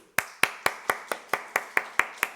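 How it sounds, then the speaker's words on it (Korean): About ten sharp, evenly spaced claps ring out at a youth service in a church, each a crisp transient with a short decay, like a small group clapping together in unison. "박수."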